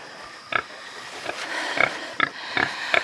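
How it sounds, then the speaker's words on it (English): Several short grunts and squeals from a baby pig come in quick bursts, fairly close, over a steady low background hiss. "There's a pig. Baby pig."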